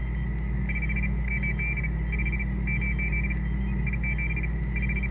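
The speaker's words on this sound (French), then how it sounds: "Trois petits bips, ça fait la lettre S, je crois." Short electronic beeps of a coded message sound in a repeating pattern over a constant low hum, clear and even, with no voices.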